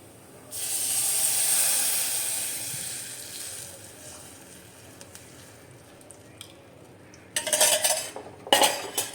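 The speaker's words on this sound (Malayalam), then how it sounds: "ഈ കലക്കി വെച്ചേക്കുന്ന മോര് നമുക്ക് ഇതിനകത്തോട്ട് ഒഴിച്ചു കൊടുക്കാം" Diluted buttermilk goes into a hot pan for moru curry with a loud hiss that rises quickly and then fades, followed near the end by a couple of sharp clatters from a metal utensil against the pan.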